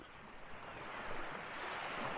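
Ocean waves wash onto the shore of Jomalig island, a broad, steady surf roar swelling slightly louder, with wind noise on the microphone and no voices.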